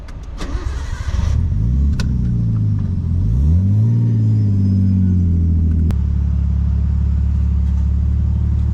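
A car engine runs and pulls slowly forward in a restaurant drive-thru lane, a steady close low rumble with a brief rising rev partway through, then settling into an even idle; no talking.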